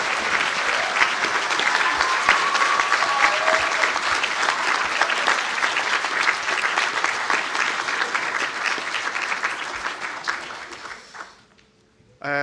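Sustained audience applause at a university conferring ceremony, dense steady clapping from a large hall that fades out toward the end before a brief new sound.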